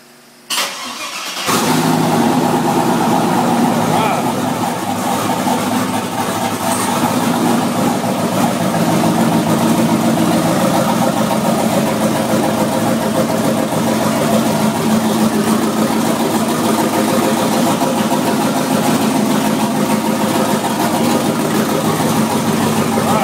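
A 1989 Chevy 1500 regular-cab short-bed farm truck with a twin-turbo 5.3 V8 cranks briefly, fires up and settles into a loud, steady, rumbling idle that runs unbroken, close by, with no talking.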